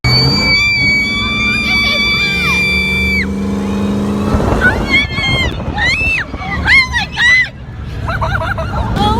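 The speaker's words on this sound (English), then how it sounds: "we paid for a monster truck ride" A monster truck on a ride, its big engine droning loud and close, then revving hard as passengers scream and shout excitedly over the roar.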